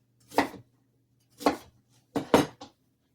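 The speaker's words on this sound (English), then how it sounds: "I'm gonna cut the rest of this onion up" An onion is chopped on a cutting board with a knife, three distinct close knocks spaced about a second apart, the last a quick double stroke, with no talking.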